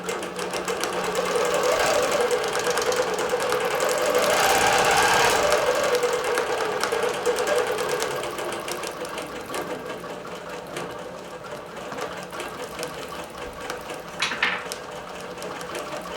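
A computerized quilting machine stitches through a quilt, giving a continuous, close, loud mechanical whir with rapid needle chatter that eases slightly in volume partway through and ends with a brief higher click.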